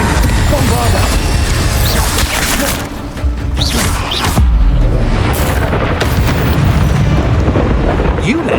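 Bombarda spell blasts in Hogwarts Legacy combat, heavy booming explosions and crashes layered over dense game noise and shouted spell incantations, loud throughout.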